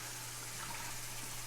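Tap water running steadily over photographic contact prints during their wash, a faint, even hiss of flowing water with a low steady hum beneath it.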